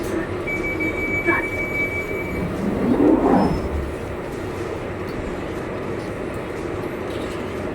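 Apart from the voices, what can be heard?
train running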